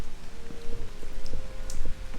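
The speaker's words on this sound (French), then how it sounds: "il pleut" Steady rain falling in London, a dense wash of patter with scattered individual drops ticking close by, continuous and moderately loud with no voices.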